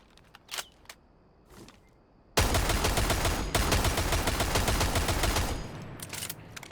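Rainbow Six Siege shooting-range gunfire: a few faint clicks, then a sudden loud, continuous burst of rapid automatic shots lasting about three seconds before cutting off to quiet.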